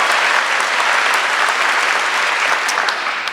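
Audience applause fills a hall at a law school commencement, dense, steady and loud for the whole stretch, tapering slightly at the end, with no voices over it.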